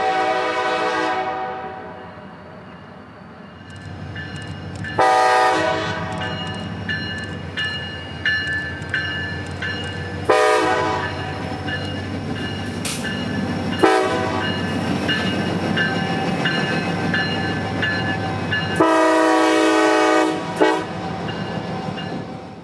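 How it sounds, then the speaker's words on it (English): CSX freight local L715 rolling into town past an old depot, sounding several long, loud horn blasts over the steady rumble and clatter of the cars; no talk. "watch as CSX comes into town with local L715"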